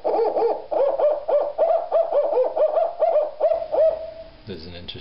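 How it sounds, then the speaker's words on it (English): Electronic owl hoots from a circuit-bent bird song calendar sound in a rapid, repeating run of low warbling calls. Near and steady, they slow and thin out before a short burst of different buzzy noise. "My favorite, the owl. Sounds great, low pitched."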